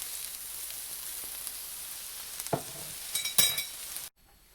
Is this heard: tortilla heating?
yes